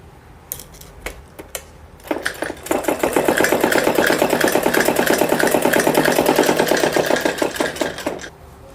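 Sewing machine stitching the panels of a Patiala salwar, starting after a few scattered clicks and knocks, then running steadily with a fast, even mechanical chatter for about six seconds before easing off.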